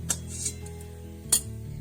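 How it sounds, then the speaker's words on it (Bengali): A wok is set down on a clay stove, giving a couple of brief metallic clinks against a low, steady background hum in a home kitchen. "উনুনে কড়াইটা চাপিয়ে দিচ্ছি"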